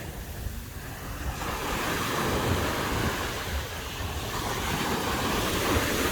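Ocean surf rolls onto the beach at Bal Harbour, Miami in a continuous, broad wash, loud and close, with wind buffeting the microphone and no voices.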